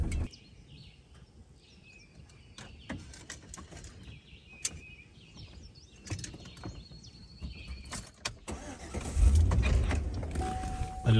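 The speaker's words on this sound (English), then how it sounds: "I just love the bird sounds." Birds chirp and call outdoors on a rural riverside farm property with ponds, thin scattered tweets at a moderate distance, joined by light mechanical rattling and a low rumble near the end.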